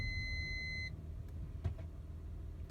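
A Honda Odyssey minivan gives off a steady high electronic beep for under a second, then stops, leaving a low idling engine hum with a few faint clicks. The beep is close and clear.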